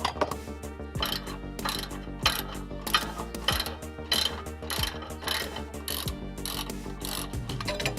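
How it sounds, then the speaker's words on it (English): A ratchet clicks in rapid bursts while loosening the stabilizer bar bracket bolts on a 2005 Chrysler 300 suspension. The close, sharp pawl ticks repeat in uneven runs with brief pauses and no talking. "So we can now hit it with the ratchet."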